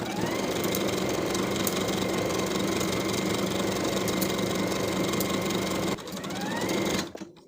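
A sewing machine stitches a seam on a shirtdress facing with a steady, fast mechanical hum and rapid needle rhythm, running continuously for six seconds, then slowing and stopping with a brief clunk.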